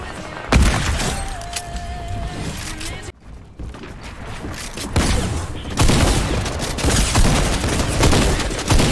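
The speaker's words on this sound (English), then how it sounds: "Try hunting rifle over it." Hunting rifle shots in an online esports match, sharp sharp cracks and booms scattered among clattering in-game gunfire and noise, with a near-silent gap in the middle and a faint voice under it.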